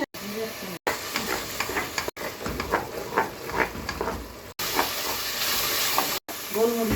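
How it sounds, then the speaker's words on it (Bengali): Spice masala for a duck curry is stir-fried in a pan, giving a steady crackling sizzle with scraping strokes, cut by several brief silent gaps. "মশলাটাকে ভালো করে কষিয়ে নিতে হবে"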